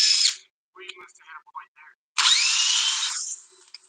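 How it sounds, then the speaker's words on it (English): New DeWalt drill boring into a pre-made hole, giving a loud whirring burst, a few stuttering bites, then a sustained high whine that slowly winds down. "So we're going to drill into a pre-made hole."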